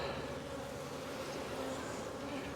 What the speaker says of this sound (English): We've got plenty of bees in this box